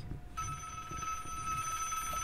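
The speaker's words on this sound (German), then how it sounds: "Jetzt klingelt wieder nur bei mir das Telefon?" A telephone rings inside the horror video game Desolate, its steady electronic ring sounding close and continuous over a low rumbling background.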